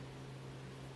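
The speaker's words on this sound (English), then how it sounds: "if you can hear sort of white noise in the background, as usual, it is my fan" An electric fan runs in a humid room, making a faint, steady white-noise hiss with a soft low hum and no other sounds.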